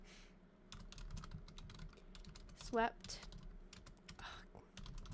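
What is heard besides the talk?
typing on a computer keyboard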